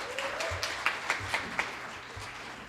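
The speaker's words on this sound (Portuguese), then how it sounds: "Aplauda o Senhor pela vida do Ricardo" Church congregation applauding a preacher being called forward, a soft spread of clapping with a few distinct louder claps standing out, heard from a little distance.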